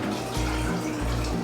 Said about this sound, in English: I'm gonna add 6 cups of white vinegar